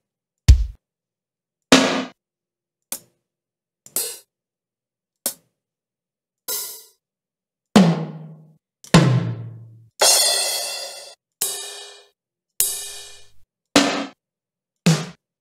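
HR-16 drum machine samples loaded in the Sitala drum plugin sound one at a time, around a dozen separate kick, snare, hat and cymbal hits spaced about a second apart with silence between them, some short and dry, others with ringing decays.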